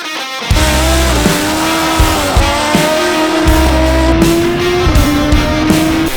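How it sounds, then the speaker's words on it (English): A racing motorcycle at MotoGP-like speed screams loudly and continuously close by, its engine note climbing and dropping with each upshift through the gears, with no voices over it. "Like MotoGP speed. Doing a wheelie at 140 mile an hour. First, second, third, fourth."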